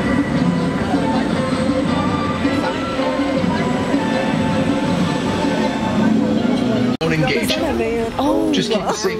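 A Universal Studios Hollywood studio tour tram moves along with a constant mechanical rumble and rattle, while voices talk over it and a sudden shift near the end brings sweeping electronic effects.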